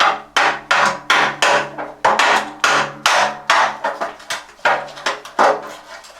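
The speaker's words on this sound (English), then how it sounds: "I just used a chisel here just to break the last little bit" A hammer strikes a chisel to break off the last bit of steel panel during underside slam panel welding repairs on a camper van: about fifteen sharp, ringing blows in a quick, steady rhythm, close and loud.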